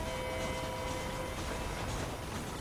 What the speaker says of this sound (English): It's that one train, right? It just does like a circuit of the map.